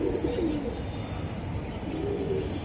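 Choco racer pigeons coo in low, repeated warbling calls at a pigeon loft selling birds, fairly close and steady over a constant background hum, with no talking.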